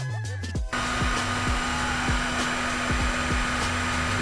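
Heat blower warming shrink tube on a one-ounce ball fishing jig, a steady close whirring blast starting abruptly and running continuously with a constant pitch.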